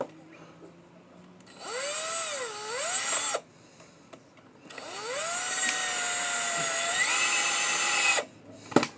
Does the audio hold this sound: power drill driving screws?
yes